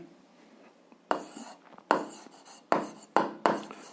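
Pen or chalk writing out an algebra solution, with a quiet scratch followed by four distinct strokes in a loose rhythm, close and clear with no talk over them.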